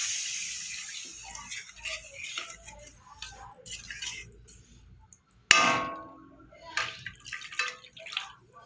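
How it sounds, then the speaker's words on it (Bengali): Water poured into hot oil in a cooking pan while making a Bengali rui posto fish curry, giving a sudden loud sizzling burst midway that fades gradually, after quieter kitchen clatter and faint voice. "তেল ছেড়ে দিয়েছে, আমি এবার জল দিয়ে দেবো।"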